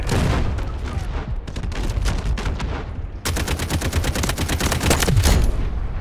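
Dense gunfire in Delta Force multiplayer war mode: sustained automatic rifle bursts and rapid shots, loud and close, with a sharper fast-firing burst taking over midway and a low boom near the end.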